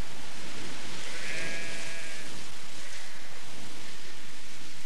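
A single sheep bleats once on an upland hill farm, a faint wavering call heard over steady wind-like background hiss, with no other sounds.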